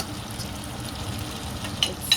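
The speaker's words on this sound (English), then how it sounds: "it's boiling slowly" Food simmers slowly in a cooking pot, giving a steady soft bubbling and sizzling hiss with a couple of brief louder pops near the end.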